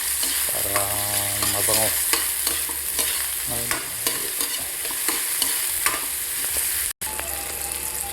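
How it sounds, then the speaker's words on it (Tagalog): Sliced onions stirred and sautéed in hot oil in a pan for shrimp sinigang, a steady loud sizzle with repeated scraping stirs, and a short voiced remark near the end. "Lagyan na natin yung sibuyas. Haluin natin mga kapaldo."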